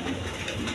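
A large pigeon coos in a loft or market setting, a low murmuring coo running steadily through a short, fairly dense stretch of ambient noise.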